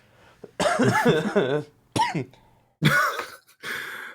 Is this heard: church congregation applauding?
no